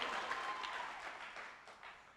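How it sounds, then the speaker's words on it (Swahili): A church congregation applauding, a soft, steady patter of many hands clapping that fades slightly toward the end, heard at a moderate distance without talk. "Tupige makofi."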